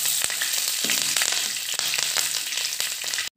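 Curry leaves and mustard seeds hit hot oil for a date pickle, crackling and sizzling loudly and close with dense popping bursts throughout, then cutting off sharply at the end.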